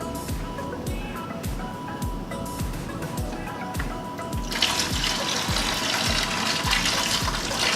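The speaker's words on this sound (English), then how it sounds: "So now I'll start siphoning the water out of the tank." Water from an aquarium tank pours and splashes steadily through a siphon, a continuous close rush that grows brighter and louder partway through.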